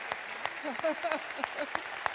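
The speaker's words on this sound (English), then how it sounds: "Give them a huge round of applause" An audience at a keynote address applauds graduating college colleagues, with steady, moderately loud clapping and a voice speaking over it.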